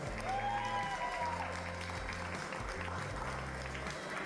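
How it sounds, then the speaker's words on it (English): A crowd at a youth livestock swine show applauds a finished class, a moderate wash of clapping at some distance in a large arena, with a low background hum. "give them a round of applause"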